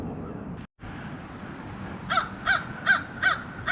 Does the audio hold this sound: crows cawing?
yes